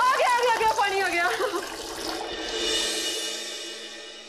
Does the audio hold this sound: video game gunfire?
no